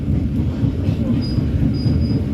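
Inside the Ranggajati executive-class train in Indonesia as it curves right toward Purwokerto, a loud, steady low rumble of wheels on rails fills the whole stretch.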